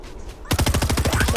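Rapid automatic gunfire in the game Fortnite starts abruptly after a brief lull, then continues as a steady, evenly spaced stream of loud, close shots.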